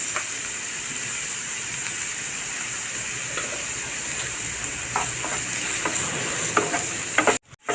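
Steady, close sizzling and stirring of green chili and ginger-garlic paste sautéing with a pinch of salt in a hot pan, with occasional scraping clicks, briefly cutting out near the end.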